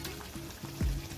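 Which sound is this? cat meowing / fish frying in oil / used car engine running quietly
fish frying in oil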